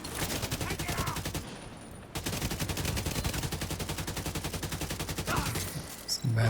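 Sustained rapid automatic gunfire in a video game, loud and close, rattling almost continuously with a short break and a few heavier bangs near the end, without talk.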